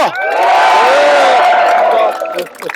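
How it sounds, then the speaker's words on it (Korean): A street crowd at an outdoor event with the Seoul mayor applauds and cheers loudly, a swelling burst of whoops and shouts that holds for about two seconds and then quickly fades. "다시 한번 박수 부탁드리겠습니다."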